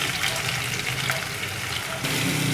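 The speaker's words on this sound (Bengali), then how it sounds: "এখানে আমি দিয়ে দিব পাঁচফোড়ন আর গোটা জিরা, তার সাথে দিয়ে দিচ্ছি রসুন কুচি আর পেঁয়াজ কুচি।" Panch phoron, whole cumin, chopped garlic and onion dropped into hot oil make a dense, loud, continuous close sizzle with a slight surge near the end.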